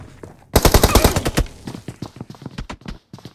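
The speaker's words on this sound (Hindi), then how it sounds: "फायरिंग देते रहे, फायरिंग देते रहे।" Gunfire in the BGMI mobile battle game: a dense, loud burst of rapid automatic shots, followed by scattered single and short-burst shots that thin out toward the end.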